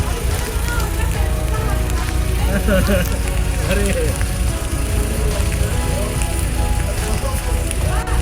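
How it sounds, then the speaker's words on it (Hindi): Steady rain falls around a roadside stop on the way from Srinagar toward Kargil and the Dras sector, a dense continuous patter filling the background while people talk nearby. "बारिश हो रही है ना।"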